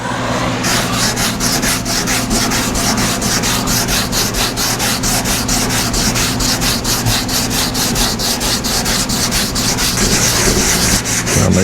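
Hand sanding works over the painted body of a 1952 Chevy, a close, loud rasping scrape in quick, even back-and-forth strokes repeated steadily for several seconds with no pause.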